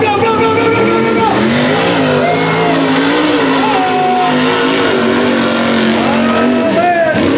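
Mega truck engines roar and rev in a race at a mud park, loud and sustained, their pitch climbing and falling as throttle changes, while spectators shout over the noise.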